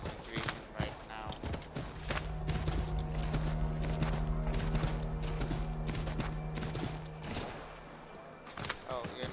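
Horse hooves clop in the Assassin's Creed 3 Remastered video game, a fairly loud, uneven run of hoofbeats under a steady game background.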